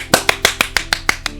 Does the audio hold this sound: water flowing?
no